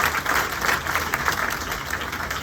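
A seated audience at a Senegalese event claps together in a steady, dense round of applause that holds at an even level throughout, with no voices rising above it.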